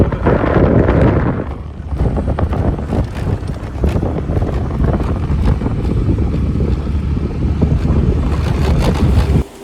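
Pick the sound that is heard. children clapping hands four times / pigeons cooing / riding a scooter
riding a scooter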